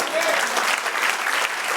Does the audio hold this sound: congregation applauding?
yes